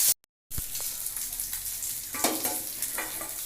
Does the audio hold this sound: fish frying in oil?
yes